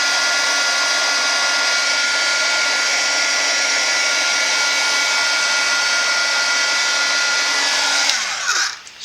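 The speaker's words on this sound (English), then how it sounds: "Just gonna shout over the sound of the heat gun." Heat gun blowing continuously at close range, a loud steady airy roar and whine that holds for about eight seconds and then winds down as it switches off.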